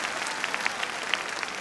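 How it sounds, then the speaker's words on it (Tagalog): Audience applause at an opening ceremony, a dense continuous patter of many hands with a few sharper individual claps standing out, steady and fairly close. "Nakasan niyo pa palakpak para maramdaman."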